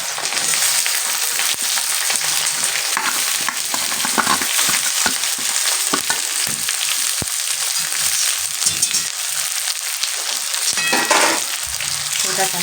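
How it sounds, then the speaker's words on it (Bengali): Chopped onions and green chilies fry with cumin in hot oil, giving a loud, crackling sizzle with repeated scraping and knocking of a stirring spoon in the pan. "এটাকে আমি সুন্দর করে হালকা করে লাল লাল করে একটু ভেজে নিই।"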